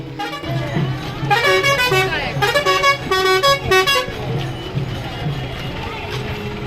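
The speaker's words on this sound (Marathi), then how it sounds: "महाराष्ट्र शासनाच्याही असंख्य गाड्या या पायी वारीतून जाताना दिसत होत्या" Government vehicles crawl through a crowded walking pilgrimage procession in Maharashtra, horns honking in repeated bursts over engine rumble and crowd noise, with someone talking throughout.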